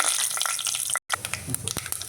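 Mustard seeds with urad dal, fenugreek, cumin and asafoetida crackle and pop in hot oil in a pan, a close, dense spluttering with sharp bursts that breaks off briefly and resumes.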